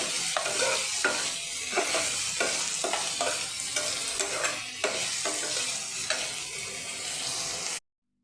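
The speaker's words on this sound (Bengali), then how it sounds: "পেঁয়াজটা ভালো করে লাল লাল করে ভেজে নেব।" Chopped onions frying in a pan while being stirred, a dense continuous sizzle with regular scraping spatula strokes roughly every half second, close and fairly loud, ending abruptly.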